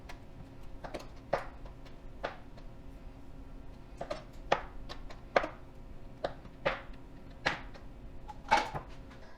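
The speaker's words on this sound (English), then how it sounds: "now we're just gonna cut these into 4ths so that they look like that" Knife chopping through jumbo biscuit dough on a cutting board, dividing it into quarters for cheesy garlic monkey bread: a string of about a dozen crisp, close taps at uneven intervals over a quiet room.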